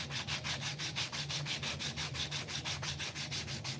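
Coarse-grit sandpaper rubbed back and forth over a wooden box lid, a quick, steady rhythm of close, faint scratchy strokes with no talking.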